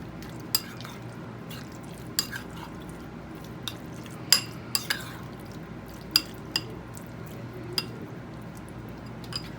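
A spoon stirs liver with tahini in a pan, giving scattered light clinks and scrapes against the metal over a soft, low background, with no one talking.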